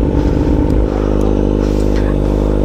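A Kawasaki Z900 motorcycle engine runs close by, loud and steady with a low harmonic drone that shifts pitch partway through as the revs change, under faint background sounds.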